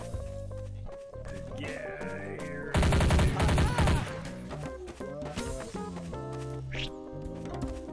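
Bursts of gunfire in Garry's Mod Trouble in Terrorist Town, with a loud dense volley in the middle of the clip standing out over game music and sound effects.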